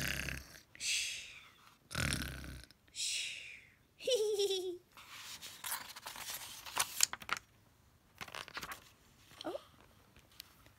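A person imitates snoring with a series of breathy, rasping snorts and grunts in irregular bursts, close and fairly quiet.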